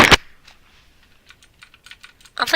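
Keys clacking on a mechanical keyboard attached to a gaming computer, a loud burst at the start followed by a run of light, irregular clicks and another dense flurry at the end, close to the listener.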